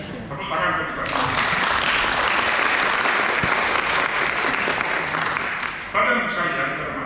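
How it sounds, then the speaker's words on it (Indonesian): An audience at the opening of a vocational school workshop and exhibition bursts into loud, sustained applause for about five seconds, with voices briefly audible just before and after. "Tepuk tangan untuk kita semua."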